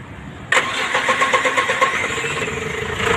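An MDT 20 engine with hard-starting trouble and low power cranks and fires abruptly, then settles into a pulsing, slightly uneven idle, close and fairly loud.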